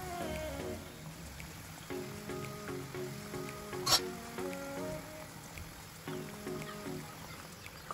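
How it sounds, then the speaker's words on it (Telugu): Badusha sweets deep-frying in oil make a quiet, continuous bubbling sizzle with faint pops, a sharp clatter near the middle, and a few light tonal clinks, with no talking. "మధ్య మధ్యలో ఇలా తిప్పుకుంటూ ఉండండి రెండు వైపులా ఈవెన్ గా ఫ్రై అవుతాయి"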